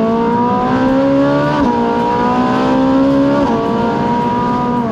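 A Ferrari supercar engine revs at high RPM, a loud sustained tonal wail that climbs in pitch, dips briefly twice and climbs again, heard close and alone without voices.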